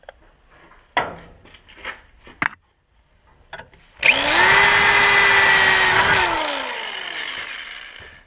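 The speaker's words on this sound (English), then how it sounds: "So what I'm doing is I'm drilling these holes here." A loud, steady mechanical whine of a power drill boring holes in metal with an oiled bit for a Fisher 7125 plow push plate on a Suburban, preceded by a few short clanks and taps.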